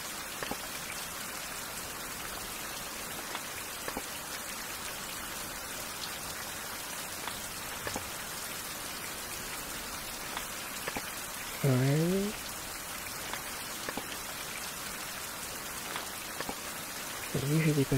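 Steady rain pours in the video game Fountain of Youth, a continuous even hiss with scattered drips, broken by two short rising chirps near the end.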